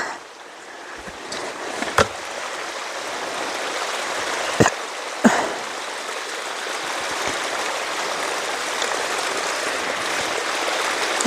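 Spring water pours and gushes in a steady, loud broadband rush throughout, with a few sharp knocks and splashes along the way and no voices.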